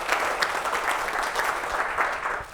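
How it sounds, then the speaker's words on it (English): An audience gives a round of applause, a sustained crowd clapping at moderate volume with slight swells, and no voices over it. "they all are owed a round of applause"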